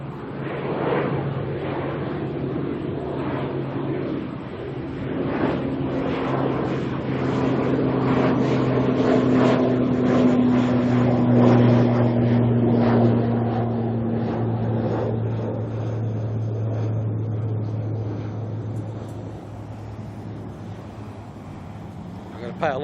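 An ATR turboprop airliner takes off from Auckland Airport toward New Plymouth, its engines a steady, loud droning roar with a rising whine that builds through the middle and then eases, partly buffeted by wind noise.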